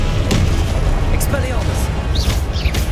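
Confringo explosion spell in the Hogwarts Legacy video game: loud, continuous booming blasts and crackling bursts close by, with a voice shouting over the explosions throughout.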